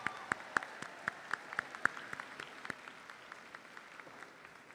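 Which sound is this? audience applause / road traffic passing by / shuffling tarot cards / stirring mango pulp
audience applause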